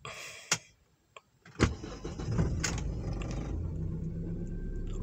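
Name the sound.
car engine starting after ECU reset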